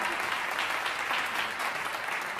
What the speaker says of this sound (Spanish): Jimena y Patty, un aplauso fuerte para ellas.